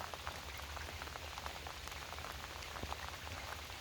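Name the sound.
rain falling outdoors by the river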